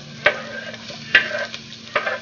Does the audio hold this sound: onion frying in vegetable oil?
yes